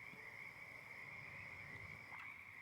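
A person's voice imitates a frog croak during a Humblewood tabletop role-play session, making a faint, steady, buzzing trill that holds evenly throughout.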